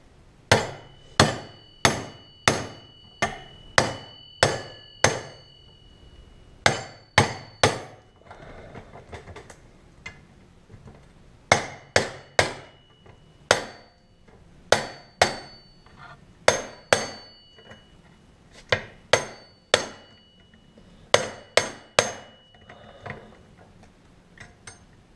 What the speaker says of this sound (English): We use an hand impact driver to help crack these loose so we don't worry about stripping out the Torx heads